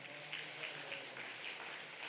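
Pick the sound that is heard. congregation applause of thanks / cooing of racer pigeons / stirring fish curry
congregation applause of thanks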